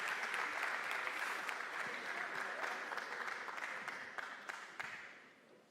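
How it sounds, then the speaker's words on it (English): Audience applause at a university forum public session: a steady wash of clapping from a seated crowd, moderately distant, with a few sharper individual claps standing out before it tapers off. "Please, An applause."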